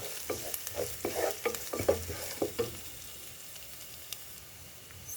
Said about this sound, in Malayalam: സവാള കുറച്ച് നേരം കിടന്ന് വഴലിട്ട് പച്ചമുളക് വെളുത്തുള്ളി സ്വല്പം വഴറ്റിയെടുക്കുക